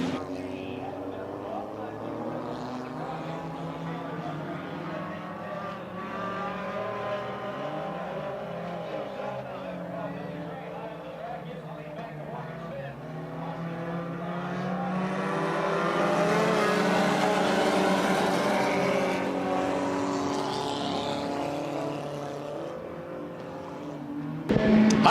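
Stock cars roar around an oval track in a race, their engines droning steadily and swelling as the pack passes nearby, with a commentator talking over them throughout.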